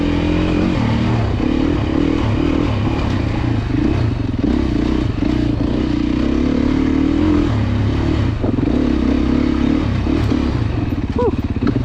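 A 2024 Beta dirt bike engine pulls steadily while riding off-road, a loud, continuous buzzing drone with revs rising and falling, heard close from the rider's position with clattering and rattling over it.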